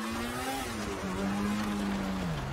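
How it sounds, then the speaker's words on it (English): Car engine in GTA roleplay, a steady revving drone holding pitch, dipping slightly then rising and falling again, loud and continuous with no talk. "Oh my God, this car sounds so good."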